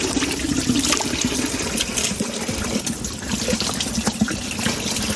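Water pouring over loquats to rinse them, a steady splashing gush that runs close and loud throughout without pause, with no voices over it.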